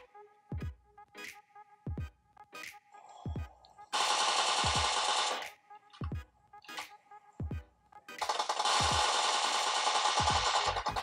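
Gunfire in PUBG Mobile played on a Samsung Galaxy M31. Several single sharp shots ring out, then two long sustained automatic bursts. Nobody speaks.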